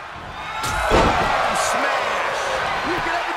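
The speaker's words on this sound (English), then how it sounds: "The sound of this crowd is deafening," A roaring arena crowd in the wrestling video game WWE 2K22 keeps up a loud, continuous wash of cheering after a heavy slam-like impact. A commentator's voice runs over the crowd noise.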